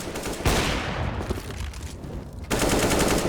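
Pistol gunfire from Counter-Strike on the map Nuke, with dense bursts of rapid shots and a loud crack near the start that continue steadily and swell again toward the end, and no talk.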